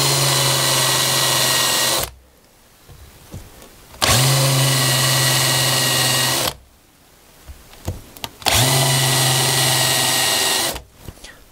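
A power drill countersinks screw holes in three sustained bursts of whirring, about two seconds each, separated by quiet gaps with small handling knocks.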